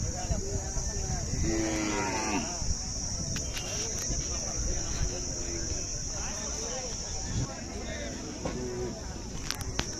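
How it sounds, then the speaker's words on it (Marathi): Cattle at the Khillar cattle market in Sangola low out in repeated drawn-out moos, some near and some farther off, over a constant bustle of market voices and a steady insect-like whine. "पाहू शकता गायी."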